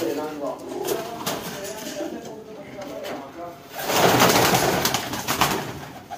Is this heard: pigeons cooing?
yes